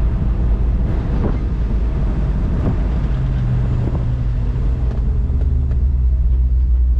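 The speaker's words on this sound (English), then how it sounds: "As you can tell, it is a convertible and we do have the top down right now." Open-air driving noise from a 1964 Ford Thunderbird convertible with the top down: low engine rumble mixed with buffeting wind and road roar, loud and continuous with no talking.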